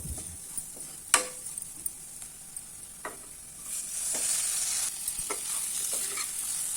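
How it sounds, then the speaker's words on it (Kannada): Fried ridge gourd and onions stirred in a pan: a sharp scrape near the start, then scattered spoon scrapes over a steady oil sizzle that swells louder in the second half. "ಹುರಿದಿಟ್ಕೊಂಡಿರುವಂಥ ಹೀರೆಕಾಯಿನ ಹಾಕಿ ಮಿಕ್ಸ್ ಮಾಡ್ಕೊಳ್ಬೇಕು"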